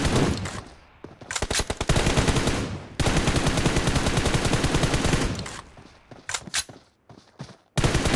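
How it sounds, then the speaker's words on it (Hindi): Rapid gunfire in a battle royale tournament match, loud dense bursts of automatic fire with brief gaps, a long sustained volley in the middle and scattered shots tapering off before a final burst. "दोनों प्लेयर का काफ़ी शानदार फायर"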